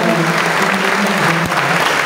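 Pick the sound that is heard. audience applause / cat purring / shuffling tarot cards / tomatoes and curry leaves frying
audience applause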